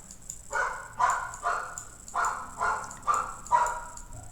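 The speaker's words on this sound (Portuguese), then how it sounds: "E é o cachorro do vizinho." Neighbor's dog barking outside, six or seven regular, moderately distant barks in a steady rhythm over a quiet indoor background.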